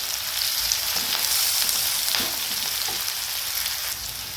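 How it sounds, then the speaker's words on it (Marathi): Sliced onions fry in a pan for sprouted matki usal, a dense, even sizzle up close with faint crackles and a stir or two, unaccompanied by talk. "हा कांदा आपला छान भाजून झालेला आहे"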